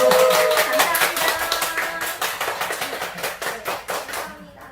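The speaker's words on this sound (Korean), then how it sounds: "다시 한번 박수 드리겠습니다" A small group claps together at the close of a Korean online talk concert, with brisk, dense applause that fades gradually and a few voices faintly underneath.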